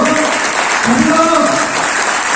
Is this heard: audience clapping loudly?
yes